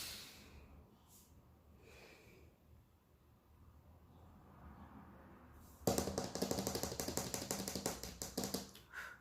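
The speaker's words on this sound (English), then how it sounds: "Let me take a deep breath." A person takes a deep breath, a loud, rushing inhale and exhale close to the microphone that follows several seconds of near silence.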